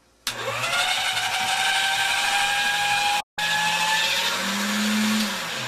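A hand-cranked pasta machine set to its thickest setting rolls a sheet of polymer clay, giving a steady whirring mechanical drone with tonal hum that runs almost continuously, broken by one brief pause.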